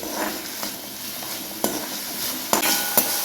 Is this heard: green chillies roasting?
yes